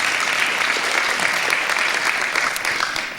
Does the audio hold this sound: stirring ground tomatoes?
no